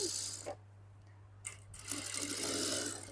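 A sewing machine stitches the belt of a salwar, with a short burst of running at the start, a pause, then quick uneven rattling stitching up close.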